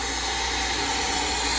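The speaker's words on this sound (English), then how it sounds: "we're gonna go ahead and vacuum fill our coolant system" A hanging venturi-style vacuum filler pulls down the coolant system of a car with a 2.5L engine swap, giving a loud, steady, unbroken rushing hiss of air throughout.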